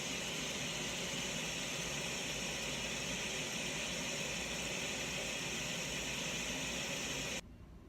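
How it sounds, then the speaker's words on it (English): Brown noise of a waterfall plays as a steady, dense, unchanging rushing hiss at an even level, then drops sharply just before the end. "This noise was a waterfall."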